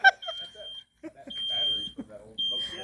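A smoke detector alarm shrills in repeated steady high beeps, each held for about a second, with people talking over and between them in a classroom setting.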